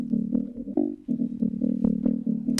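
Serum synth bass with an envelope on the filter cutoff, in a dubstep drop, plays alone as a loud pulsing bass with repeated bouncy filter swells across the whole stretch.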